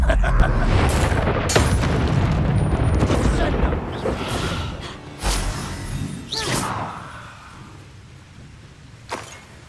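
A Bombarda spell explosion in the video game Hogwarts Legacy, a heavy booming blast with rumbling low end that decays over several seconds, followed by scattered thuds and a sharp crack, with voices heard.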